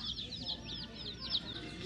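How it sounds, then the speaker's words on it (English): Chicks cheep in rapid high chirps from fairly close by, a busy overlapping chatter with low background noise underneath. "Look at the chicks."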